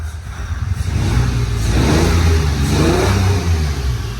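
Ford Ranger Baja truck engine revving up steadily and loudly close by, the roar swelling and easing over several seconds with a slightly uneven, missing-cylinder character.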